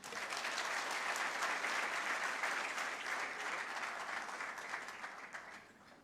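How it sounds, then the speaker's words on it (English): Dense audience applause for a graduating class of emerging leaders, a steady, full wash of clapping that holds strong for several seconds before thinning and fading toward the end. "Let us give the two presidents' class a more heartier clap."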